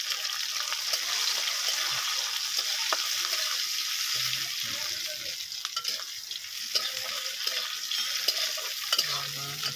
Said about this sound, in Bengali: রসুনটা দিয়ে দেবো, বড়িগুলো দিয়ে দিচ্ছি, একসাথে ভাজা করবো